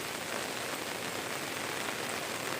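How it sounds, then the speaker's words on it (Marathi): Steady rain pours down during a river flood near a village, a dense, even hiss of drops on surfaces with no breaks, no voices, lasting throughout. "पाऊस देखील वाढलाय हळूहळू पाऊस ओढ राहिला"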